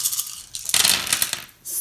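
A large handful of dice tumbling across a table during a Dungeons & Dragons game, a close, bright clatter of many small pieces rattling and settling in quick bursts with no talk.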